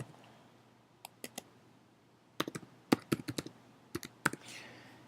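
Quiet clicks of a computer keyboard, typed in scattered short bursts of separate keystrokes against a low room hum with no talking.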